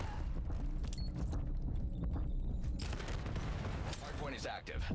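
Rapid submachine gun fire in the Black Ops 7 video game, with bursts and clattering effects over a busy game soundscape, partly mixed with a voice talking.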